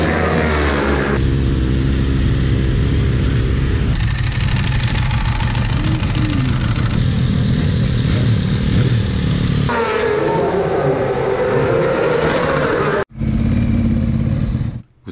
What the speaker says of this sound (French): le Français Kevin Piet, qui roule en Ducati 1198S avec sa team Big Block Motorcycle pour la PMR Cup